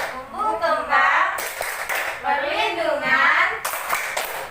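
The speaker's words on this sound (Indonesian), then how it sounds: "Kita tepuk hak anak lagi Bu ya. Tepuk hak anak." A group of adults claps rhythmically along with a chanted children's rights song during a training session, the clapping mixed under loud chanting voices throughout.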